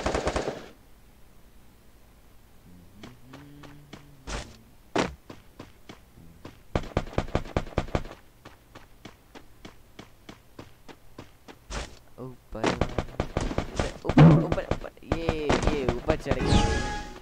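Free Fire video game gunfire crackles in rapid automatic bursts and scattered single shots, fairly close and sharp, with a voice talking excitedly over parts of the action.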